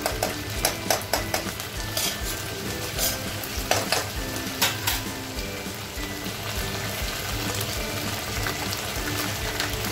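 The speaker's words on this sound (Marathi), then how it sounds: "आता थोडेसे फ्राय झालेले आहेत आपल्या भाज्या" Mixed vegetables for paneer chilli sizzle steadily in a pan, with a run of sharp stirring scrapes and clinks early on, then a continuous close frying hiss.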